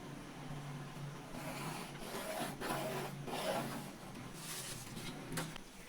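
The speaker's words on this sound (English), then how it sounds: "I'm drawing a straight line." A straight line is drawn for a blouse pattern, giving faint, close scratchy rubbing strokes in several short uneven passes over a quiet room background.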